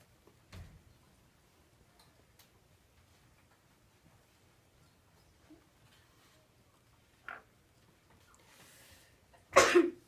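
A single sneeze bursts out near the end, loud against a quiet room with faint ticks and small rustles before it.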